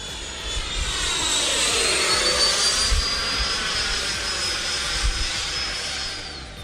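A radio-controlled model jet plane streaks past with a high, whining turbine roar that swells and shifts in pitch, heard alone at a moderate distance.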